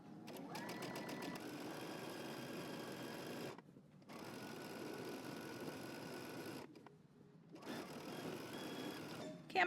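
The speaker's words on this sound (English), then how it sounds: "1/4 inch away from the edge of my fabric, I'm gonna stitch all the way around" Sewing machine stitching fabric a quarter inch from the edge, running in steady continuous bursts with two short pauses, close and moderately loud with no talking.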